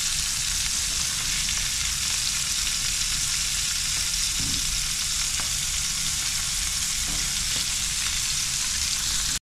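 Fish fries in oil in a pan, giving a steady, close sizzle with a bright, hissing crackle that holds evenly for several seconds with no voices.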